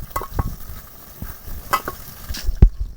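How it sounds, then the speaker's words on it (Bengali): Fish is worked by hand with raw mustard oil and chili powder in a bowl, giving soft wet squelches and scattered clicks, close and quiet, ending with one sharper knock. "এবার দিয়ে দেবো কাঁচা সরিষার তেল ভালো করে মাছের সঙ্গে মাখিয়ে নেব"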